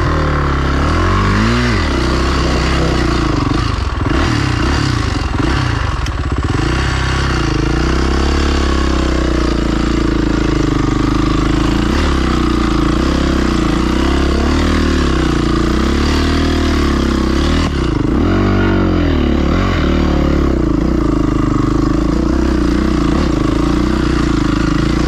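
A vehicle engine revs hard and steadily, its wheels spinning and slipping without grip, a loud continuous drone with rising and falling surges across the whole stretch.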